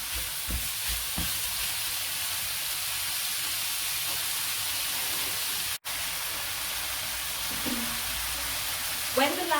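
Lamb frying in a pan gives a steady, close sizzle throughout, with occasional soft clinks and scrapes of stirring and no voices.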